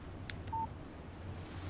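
A phone text message alert in Alan Wake Remastered: two quick clicks followed by a short, clean electronic beep, faint against a quiet low background hum.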